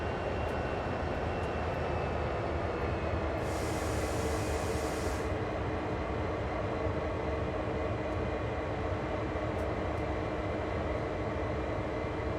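A locomotive idling in Train Sim World, a steady low engine drone with constant rumble, holding even and loud with a brief hiss of air partway through.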